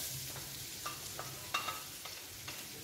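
Leek tossed into a pan for turkey thighs in sauce, frying with a low crackle and a few light clicks of a utensil against the pan.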